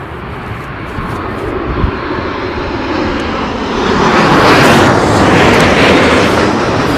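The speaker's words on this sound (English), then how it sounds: "Time for a 737 MAX." A Boeing 737 MAX comes in to land at Heathrow during Storm Nelson, its jet engines a loud, steady roar that swells as it passes, mixed with heavy wind buffeting the microphone.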